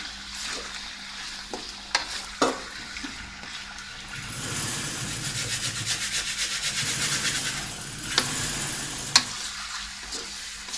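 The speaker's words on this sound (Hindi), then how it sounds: "इसको हाफ फ्राई करना है, इसका रंग चेंज करना है।" Chicken pieces fry in a pan for karahi, a rising sizzle that swells in the middle while a utensil scrapes and stirs, with occasional sharp knocks against the pan.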